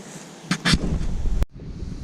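Broadband wind rushing steadily across the microphone, with a couple of brief gusty bursts and a sudden sharp cut partway through.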